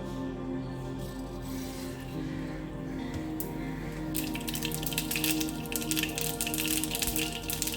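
Mustard seeds crackle and pop in hot oil in a pan for a Kerala prawn and ridge gourd stir-fry, a soft steady hiss that breaks into a denser run of quick crackles in the second half.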